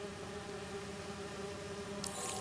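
Bees buzz steadily in Marvel's Spider-Man 2, a constant droning hum that holds at an even level throughout, with a brief brighter rustle near the end.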